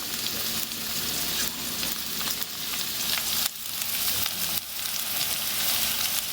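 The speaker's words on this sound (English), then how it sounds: "We'll let those sizzle for a bit." Salt, garlic powder and smoked paprika sizzle in a frying pan, a steady, close hiss of frying that barely varies throughout, with no talking.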